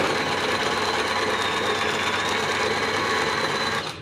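A used domestic sewing machine running steadily, a continuous close whirring stitch drone holding even for about four seconds before easing off at the end.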